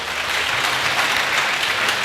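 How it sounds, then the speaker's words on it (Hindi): Applause from a seminar audience at a large career event in Bihar, a dense, steady wash of many hands clapping at once, loud and continuous throughout with no voices rising above it. "तो एक बार फिर से इनके लिए तालियां हो जाए"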